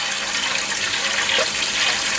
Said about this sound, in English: Next step is to fill up a pot like this with water,